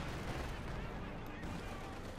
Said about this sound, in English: They're taking hits from the field gun.